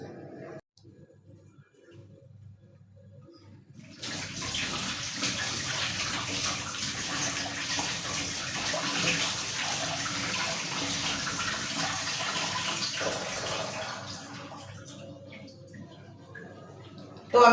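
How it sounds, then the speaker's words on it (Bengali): Papaya being rinsed under a running tap, a steady rush of water that starts after a few quiet seconds and runs for over ten seconds before easing off. "তো আমি পেঁপেটা ধুয়ে নিছি"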